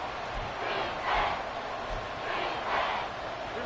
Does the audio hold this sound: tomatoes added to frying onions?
no